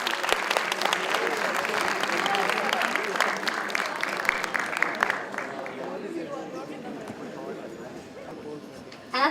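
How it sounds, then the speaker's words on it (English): Audience at an international conference claps together in a broad, steady wash of applause that fades toward the end, with a voice briefly audible over it. "Please give a round of applause"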